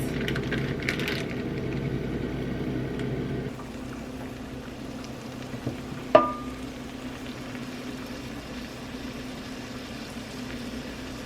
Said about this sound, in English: Can you guys hear that sizzle now?